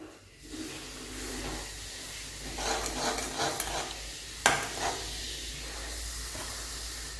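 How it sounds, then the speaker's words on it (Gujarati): Asafoetida dropped into well-heated oil in a pan while making a Gujarati gunda (lasoda) sambharo, giving a steady, close hiss and sizzle with a brief sharp crackle burst midway and light stirring. "આપણું તેલ સારી રીતે ગરમ થઈ ગયું છે તો હવે આપણે તેમાં થોડી એવી હિંગ નાખીશું"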